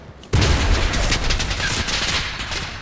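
Bombs explode in the online shooter Enlisted, setting off a sudden loud, dense roar of blasts and gunfire that starts abruptly and keeps rumbling close by for a few seconds.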